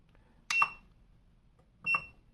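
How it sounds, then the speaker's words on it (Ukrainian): A Choetech 2000W portable charging station beeps twice on button presses, each a short, sharp electronic chirp about 1.4 seconds apart over a quiet background. "Не подобається мені, що вона пищить, коли натискаєш на кнопку"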